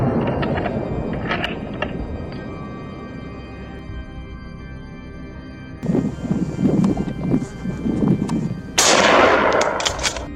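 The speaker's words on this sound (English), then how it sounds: "a deafening shot rang out, striking the boar" Gunshots fired at a wild boar on a hillside during a farmers' boar hunt: distant, muffled reports and rumbling booms, followed by a louder burst of sharp cracks and a harsh blast near the end, with no talk.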